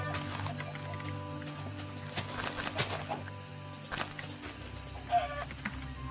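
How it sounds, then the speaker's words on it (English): Chickens cluck in the Minecraft video game, scattered short clucks over a steady background hum, with quiet clicks and thumps in between. "Just gotta kill all these chickens now."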